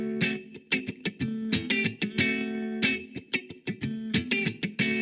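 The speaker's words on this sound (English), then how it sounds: "So I'm starting with distortion. I want to drive the signal hotter into the amp." An electric guitar runs through a distortion effect driving the signal hotter into the amp, with moderate drive rather than heavy gain, playing a choppy, rhythmic run of short, buzzy, harmonically rich chords and notes with brief gaps between them.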